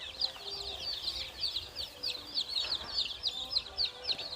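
A brood of one-day-old chicks cheeps continuously as they sip water together in a brooder, many high-pitched peeps overlapping at close range without voices.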